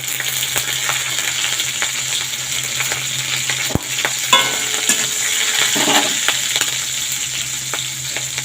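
Chopped garlic and green chilies frying in a hot pan, a steady loud sizzle with occasional stirring clicks and scrapes throughout.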